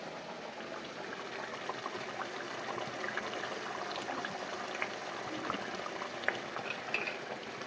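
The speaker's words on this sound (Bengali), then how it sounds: "এবার এটা 5 থেকে 10 মিনিটের মতো ফুটতে দেবো।" A pan of mushroom and green pea curry simmers at a low, gentle bubble, faint and steady throughout, with soft pops rising toward the end and no talking.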